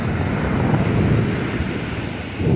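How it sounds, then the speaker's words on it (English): Surf rolls and breaks steadily on an Atlantic beach at Cape Canaveral National Seashore, a continuous loud wash of waves with wind buffeting the microphone throughout. "The waves."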